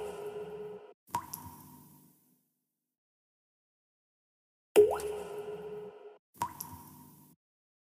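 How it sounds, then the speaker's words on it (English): Water drop sound effects from CapCut's library: four separate plops, each a sharp drip with a short ringing tail, with silent gaps between them. "search for Water Drop."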